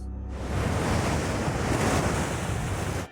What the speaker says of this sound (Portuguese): Só o que se consegue ver é o branco das ondas batendo nas rochas.